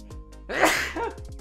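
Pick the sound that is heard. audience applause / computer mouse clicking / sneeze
sneeze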